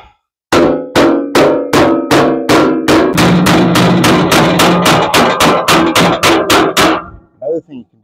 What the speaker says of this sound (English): You can set this hammer on and you can hit it with another hammer.